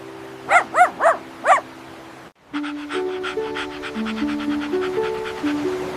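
Lucky the dog pants in four quick, close, evenly spaced breaths, then music begins.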